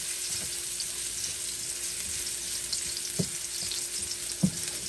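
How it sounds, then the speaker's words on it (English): Chopped garlic, seven to eight cloves, frying in a pan on medium heat, a steady close sizzle throughout with a couple of soft clinks of stirring, no talking. "Put about 7 to 8 cloves of garlic in there, chopped up on medium heat."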